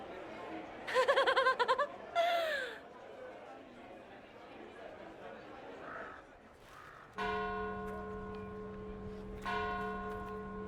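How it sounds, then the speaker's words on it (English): Church bells ring out loudly in Dragon Age: Inquisition, a rich sustained peal that enters abruptly and is struck again, following a stretch of voices, chatter and laughter. "That's our bells, knobbers!"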